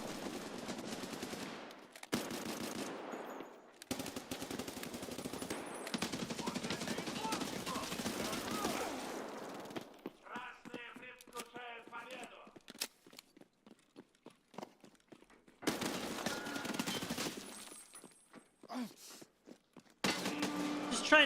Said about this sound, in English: He's shooting me first.